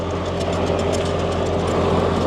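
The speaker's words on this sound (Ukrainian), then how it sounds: "Красива картинка, як поїхали два трактора" Two Solis 50 tractors pulling away on a farm, a loud steady diesel engine drone with rattling mechanical clatter, continuous and close.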